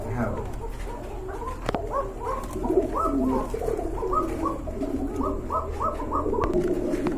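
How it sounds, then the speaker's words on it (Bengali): A matched pair of same-coloured pigeons at a pigeon sale coo repeatedly in a steady run of soft, rounded calls, close by, with faint background voices. "দুইটা কিন্তু সেম কালার মাশাল্লাহ চমৎকার এক জোড়া কবুতর"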